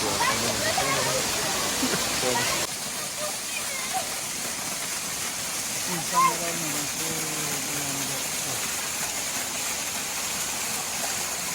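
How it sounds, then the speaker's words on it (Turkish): Savruk Waterfall in Kahramanmaraş roars as a dense, steady rush of falling water, loud and continuous, with a brief shift partway through and some talk faintly beneath it. "Savruk Şelalesi'ndeyiz şimdi."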